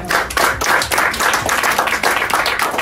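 A church congregation claps together in acclaim during a sermon, dense steady applause with rhythmic pulses, loud and continuous with no talk over it.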